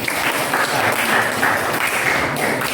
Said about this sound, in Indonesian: Tepuk tangan untuk kelompok Utsman bin Affan.